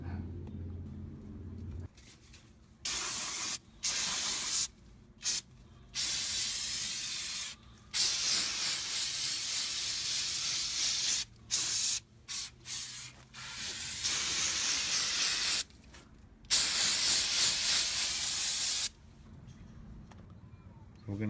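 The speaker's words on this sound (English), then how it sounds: "We're gonna use a cleaner on all this. We're gonna spray this all down." Brake cleaner hisses from an aerosol can onto a Cadillac's brakes in repeated bursts, some short and some lasting several seconds, loud and close with brief silences between sprays.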